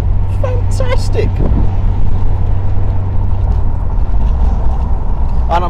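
A retro car's exhaust rumbles steadily at a classic car club event, a low, continuous drone close by, with a few brief squeaks and chirps over it early and at the end.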